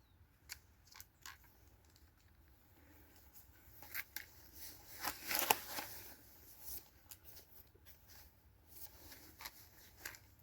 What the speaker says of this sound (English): I'm going to fish under brolly because there's a bit of rain today.